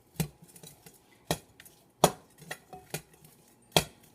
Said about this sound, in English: So you take that and just mix that around